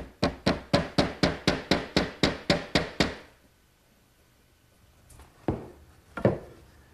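A wooden peg is tapped into a glued mortise on a mesquite bookcase: a quick, even run of about a dozen close, crisp knocks, then a pause and two separate, softer taps.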